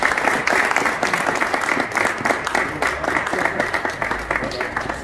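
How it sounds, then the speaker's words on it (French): A crowd at a football club's food distribution event applauds steadily, a dense, continuous wash of clapping close by that holds at a fairly even level for the whole stretch. "Je voulais juste qu'on les applaudisse."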